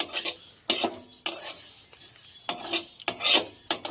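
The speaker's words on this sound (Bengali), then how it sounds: "সবকটা মশলা কিন্তু অল্প আঁচে ভাজতে হবে বেশি আঁচে ভাজলে" Whole spices for a homemade fish masala are stirred and scraped in a pan over low heat, giving repeated gritty rasping strokes in an uneven rhythm over a faint, soft sizzle.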